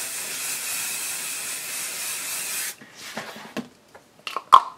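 A continuous aerosol adhesive spray onto a cutting mat hisses for nearly three seconds, then stops, followed by a few soft rubbing and tapping sounds up close.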